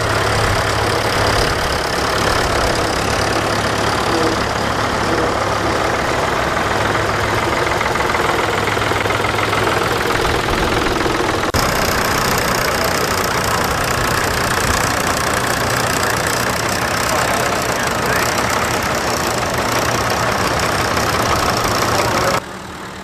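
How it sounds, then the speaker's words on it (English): Tractor engines idling at the Carrington Roundup agricultural show before a parade in the main ring, a loud, steady, close diesel rumble and knock that runs unbroken throughout. "We've got some tractors on the move now."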